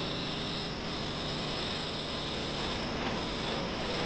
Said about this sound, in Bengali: বিমান যাচ্ছে।